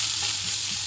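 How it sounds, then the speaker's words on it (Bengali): Onion and green chillies stirred in a pan of hot oil, a loud close hissing sizzle that barely changes, with soft scrapes underneath and no voices. "একটু নাড়িয়ে দেবো"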